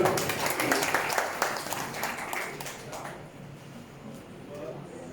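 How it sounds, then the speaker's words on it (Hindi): A crowd claps loudly in a dense burst that thins out and fades after a few seconds. "एक बार तालियों के साथ स्वागत"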